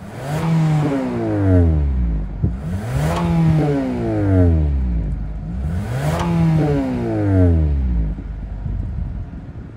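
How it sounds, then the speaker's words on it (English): A 2024 Nissan Altima SR VC-Turbo engine revs up repeatedly, each rising whine climbing in pitch then dropping back, about four strong pulls close by, with no talking. "let's see how this engine is going to sound"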